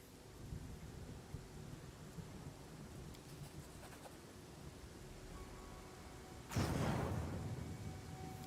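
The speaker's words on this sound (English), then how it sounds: "No, yeah, there's a thunderstorm there." A faint steady rain hiss fills a thunderstorm in the fantasy role-playing game Pathfinder: Kingmaker, then a sudden loud thunderclap crashes and rumbles on to the end.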